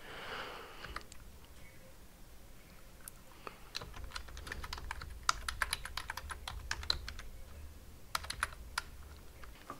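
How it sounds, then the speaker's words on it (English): Typing on a computer keyboard while entering email addresses into an open-source forum setup, heard as scattered clicking keystrokes in irregular bursts, fairly close and alone over a quiet background hum. "you can just hit enter, but I'm going to go ahead and type it anyways"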